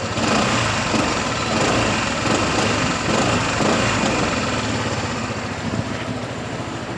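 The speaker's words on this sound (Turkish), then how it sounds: "Egzoz sesi." A 125cc QJ-engined RKS Reale motorcycle idles steadily and close, its exhaust a continuous buzzing rumble with no change in pace and no talking.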